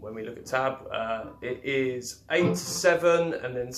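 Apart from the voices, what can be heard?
No everyday noise stands out behind the speech.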